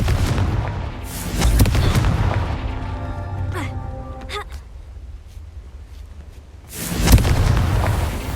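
Confringo blasting spell in the Hogwarts Legacy game, booming explosive bursts with crackling impacts and a ringing tail, separated by a quieter stretch, with a loud blast near the end.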